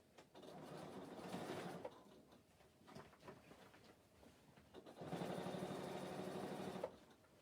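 A sewing machine stitches oilcloth in two steady runs, a fast whirring hum that pauses briefly in between, faint and close with no talk.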